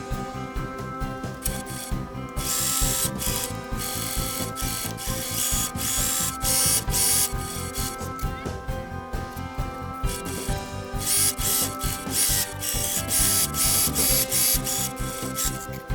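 A sewing machine stitching sleeves onto a t-shirt, a fast mechanical rattle running in bursts with brief pauses between runs, close and alone.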